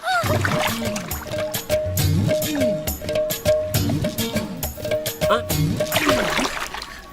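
A person repeatedly dunks into water, ducking under three times, producing a series of splashes and sloshes at close range, interleaved with speech and a sustained musical tone throughout.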